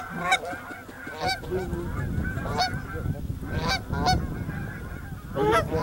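A flock of geese honking loudly and repeatedly, with harsh overlapping calls at close range during a hunt, while someone speaks briefly under the noise.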